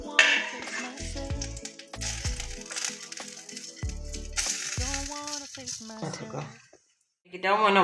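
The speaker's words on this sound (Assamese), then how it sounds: "এতিয়া মগজুকেইটাও ভাজি ল'ম অকণমান।" Melon seeds frying in a pan while being made into sweet ladoos, with a steady sizzle, a few low scraping stirs and scattered crackles, mixed with music and a brief pause near the end.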